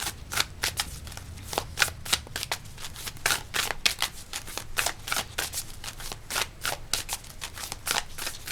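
Oracle cards are shuffled for a pick-a-card reading in a long run of quick, crisp riffling bursts, close and fairly quiet, repeating unevenly without talk.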